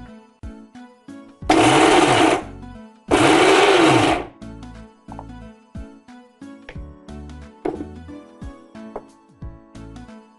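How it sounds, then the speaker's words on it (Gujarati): A mixer grinder crushing green peas and roasted peanuts roars in two loud bursts of about a second each, separated by a short pause, while quieter kitchen clatter and tonal background fill the gaps. "સિંગદાણા અને વટાણા આ રીતે ક્રશ કરી લેવાના છે"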